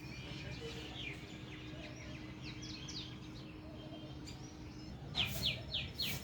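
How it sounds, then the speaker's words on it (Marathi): Soft, scattered morning bird chirps and twittering from a distance, ending in a brighter run of quick repeated chirps over a quiet outdoor background. "पक्ष्यांचा आवाज असतो"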